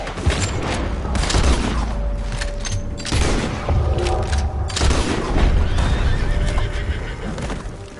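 Gunfire in Red Dead Redemption 2, with booming shots ringing out over a loud, dense game soundscape of horses neighing and hooves clattering.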